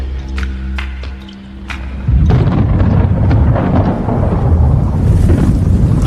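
Thunder from a lightning storm rolls in low and heavy, first a faint rumble with scattered crackles, then a sudden loud, continuous roar that holds steady to the end, with no voices.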